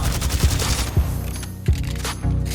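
Volt SMG fire in Apex Legends: rapid bursts of automatic shots in several short volleys with brief pauses between them, loud and close, with no talk.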